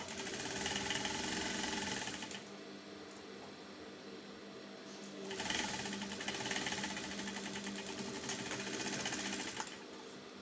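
A sewing machine stitches a halterneck dress in two bursts, a rapid mechanical whir that pauses briefly between passes before resuming, with light fabric handling in the gap.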